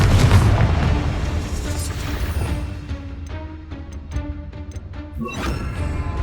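A Confringo spell blast in Hogwarts Legacy erupts as a loud, deep boom at the start, then fades into a rumbling tail with scattered debris-like crackles and a second burst near the end.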